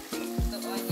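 Onions hitting a hot pan for Nigerian buka-style rice and beans, giving a steady close sizzle with a few sharp stirring scrapes and clinks.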